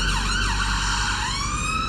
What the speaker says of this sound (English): London ambulances have become ubiquitous in the capital, pacing the streets and delivering fragile cargo to waiting hospitals